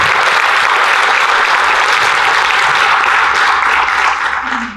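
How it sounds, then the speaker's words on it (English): A large audience gives a sustained round of applause at a university research presentation competition, dense steady clapping that fades out near the end with no speech over it. "I would like to give you a round of applause"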